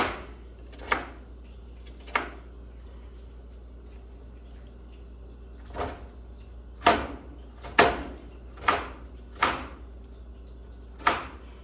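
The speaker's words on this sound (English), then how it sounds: "Onions are easy to cut. This would be even easier if my knife wasn't so dull." Onions chopped with a dull knife on a cutting board while making homemade chili: sharp isolated knife thuds, a few spaced apart at first, then a quicker run of about six firm chops, close and clear in a quiet room.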